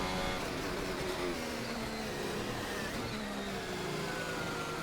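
An F1 car on a qualifying lap of the Canadian Grand Prix in F1 2025 holds a continuous high engine whine, steady and loud throughout.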